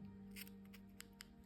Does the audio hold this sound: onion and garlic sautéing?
no